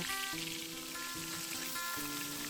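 Constant, soft hissing sizzle of prawns frying in hot oil, with faint sustained musical tones running underneath.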